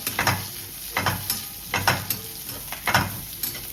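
Large pieces of garlic and ginger frying in a pan for chicken curry, sizzling under rhythmic stirring strokes that scrape and clack about once per second, close and fairly loud.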